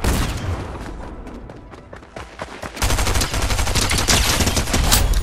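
Rapid automatic gunfire from a Fortnite match rattles in loud, dense bursts, easing briefly before a heavier sustained barrage takes over and runs to the end.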